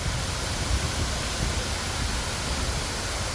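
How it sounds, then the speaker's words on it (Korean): Steady broadband rush of water pouring down the 25 m Hongje artificial waterfall in Seodaemun, Seoul, built in 2011, a continuous even roar with no talking. "이곳은 서대문 홍제폭포입니다."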